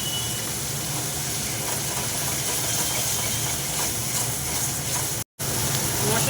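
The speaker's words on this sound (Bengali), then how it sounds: "মশলা থেকে সুন্দর আমার তেল ছেড়ে ছেড়ে এসছে।" Mustard, poppy seed and green chili paste frying in oil, cooked with melted tomatoes for hilsa fish, gives a steady close hiss and sizzle that runs without a break, with one short dropout near the end.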